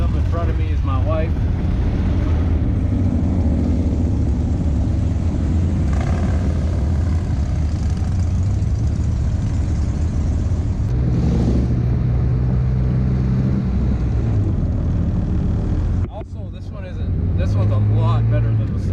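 A Vanderhall three-wheeler at the Sturgis 2019 rally drives with a steady engine drone and road rumble, while people talk over it.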